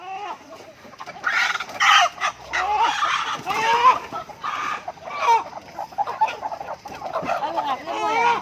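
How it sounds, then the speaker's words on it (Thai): Several chickens cluck and squawk close by in overlapping bursts, with an occasional louder call rising above the busy flock, at a border market buying native chickens in Thailand. "ไก่บ้านครับผม ราคาดีช่วงนี้"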